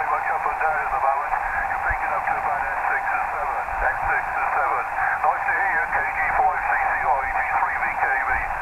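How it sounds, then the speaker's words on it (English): An amateur radio voice signal relayed through a satellite, band-limited and crackly, with someone talking throughout as the signal strength wavers up and down. "Signals are very much up and down at the moment."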